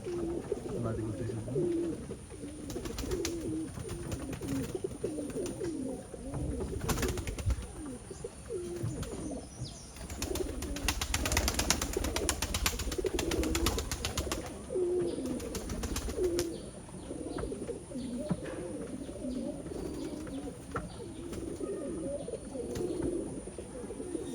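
Old Khulna breed pigeons coo repeatedly and steadily at close range, layered with fluttering and other bird calls, with a brief voice now and then.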